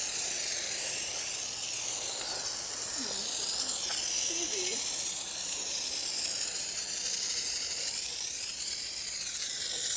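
A pump-up foam sprayer bottle mists ceramic coating mix in a continuous hissing spray that swells and eases over time, with a voice heard briefly partway through.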